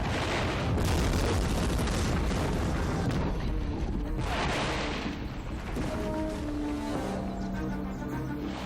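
A bomb detonates inside a building's room, producing a loud, dense broadband roar that fills the whole span, with the blast rumble and debris noise continuing under a steady wash.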